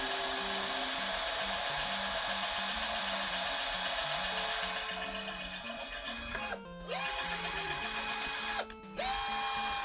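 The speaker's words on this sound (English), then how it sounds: "I'm going to bring my drill bit in just like, let's see, right about in there." A drill bit boring a hole at a soldering workstation, a steady high-pitched whine that holds for several seconds, stops briefly twice and restarts near the end, with no talking.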